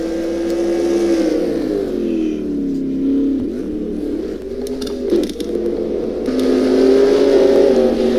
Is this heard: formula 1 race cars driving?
yes